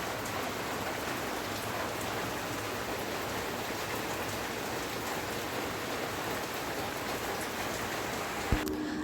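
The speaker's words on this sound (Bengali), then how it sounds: "রান্না করছি আর বাহির বৃষ্টি পড়ছে" Steady rain pours down outside a village kitchen in a dense, unbroken hiss, with a brief knock near the end.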